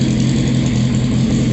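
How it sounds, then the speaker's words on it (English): A loud, steady motorcycle engine fitted to a lawnmower drones nearby with a rough, low throbbing rumble, running continuously without letting up. "it's a fucking lawnmower with a motorcycle engine."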